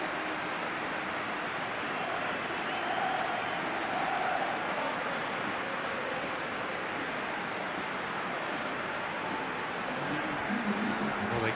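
A stadium crowd in a PES 2021 football exhibition match at a famous arena gives a steady, dense roar that swells slightly at moments. It stays at a moderate level throughout with no voices on top.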